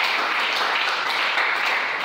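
A church congregation bursts into sustained applause acclaiming the Lord during a sermon, dense, even clapping from many hands filling the room without a break.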